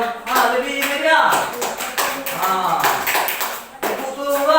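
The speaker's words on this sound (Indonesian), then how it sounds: "Kita berikan aplaus dulu untuk kelompok 1 yang lebih meriah." Students in a classroom clap for a group, a scattered, rhythmic burst of hand claps mixed with voices talking over them.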